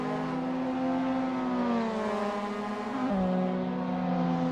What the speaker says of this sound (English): You can hear the engine screaming as everyone tries to extract every last bit of pace for that final sector.